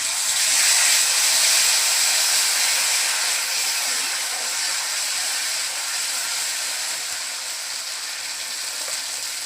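Cumin seeds and ginger paste hitting hot oil for a Bengali tel koi fish curry, giving a loud, close, broad hissing sizzle that starts strong and slowly eases off.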